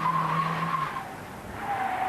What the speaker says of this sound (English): The 360-degree turn as he uses his handbrake.